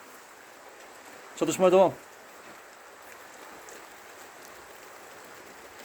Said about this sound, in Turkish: Yağmurlu bir boğaz günü arkadaşlar.